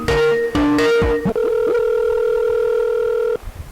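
A telephone call connecting: a few choppy tones and clicks give way to a steady, sustained electronic ringing tone that holds for about two seconds, then cuts off.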